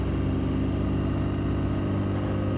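Steady low engine drone from a BMW R Nine T Urban GS motorcycle on a ride in the Lake District, a continuous even hum with strong low harmonics, constant loudness, no voices.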